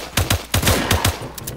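Rapid bursts of video game gunfire, roughly eight loud close shots in uneven pairs and clusters, with a few fainter pops trailing off at the end.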